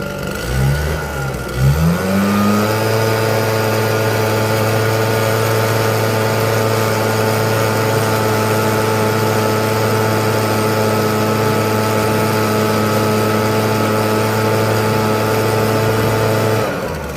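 A gas-powered blower forcing air through a downspout to clear out shingle gravel starts with a brief sputter, then holds a loud, steady engine drone close by for the rest of the clip, with no talking.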